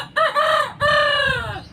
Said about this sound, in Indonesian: Aduh, ada ayam.